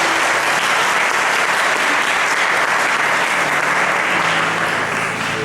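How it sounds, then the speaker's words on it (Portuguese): A church congregation claps for the Lord during a Portuguese-language worship service, loud sustained applause from a large crowd holding steady throughout with a slight fade at the end. "Você pode aplaudir o Senhor?"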